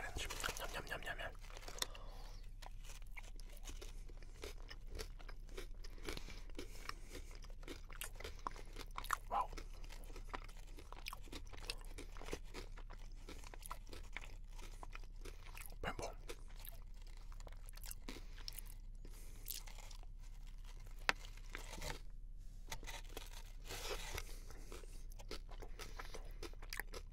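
Quiet, close chewing and crunching of brigadeiro chocolate sweets, soft irregular bites and mouth sounds over a steady low hum, with a faint voice now and then.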